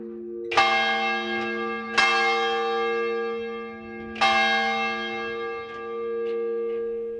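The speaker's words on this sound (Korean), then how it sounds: "이 종소리는 아주 우렁찼다." A loud monastery bell hanging beside the gate in a village near Kyiv rings with three heavy strikes, each leaving a long humming tone that fades slowly, with a few fainter strokes near the end.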